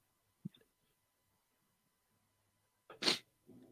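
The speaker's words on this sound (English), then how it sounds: "Oh, sneezing again." A person sneezes once, a sharp loud burst close by, with a small throat sound or sniff earlier and faint voices starting right after, in a quiet talk-radio setting.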